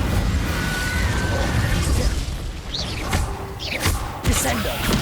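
In Hogwarts Legacy, an Incendio fire spell is cast amid loud, busy combat noise, with whooshing bursts and booming thuds over a rumbling background and a few sharp pops near the end.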